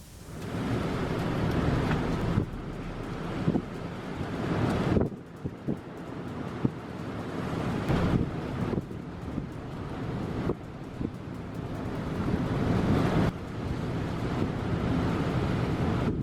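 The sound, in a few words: fierce winds and giant waves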